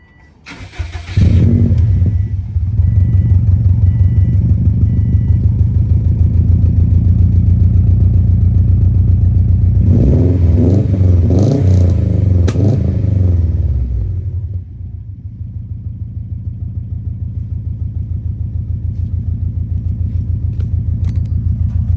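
A BMW E36 engine with a freshly welded exhaust part starts and settles into a steady idle, then revs in several quick blips before dropping back to a loud, even idle, heard close up with no talk.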